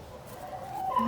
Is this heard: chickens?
yes